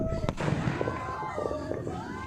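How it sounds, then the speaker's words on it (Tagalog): A sharp bang from imported New Year 2025 fireworks cracks out, followed by crackling bursts and thumps, with people talking over it. "Imported itong mga fireworks na to."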